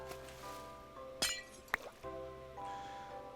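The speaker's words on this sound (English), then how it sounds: "I'm actually going to break the glass." Glass breaking in the Minecraft video game, two sharp crisp clinks spaced about half a second apart over steady background game music, with no speech.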